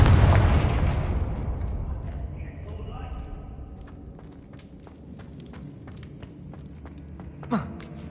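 A fiery Confringo spell from the Hogwarts Legacy video game blasts off with a loud booming explosion at the start. The rumble slowly fades over several seconds, followed by a few faint clicks, light footsteps and one small late pop.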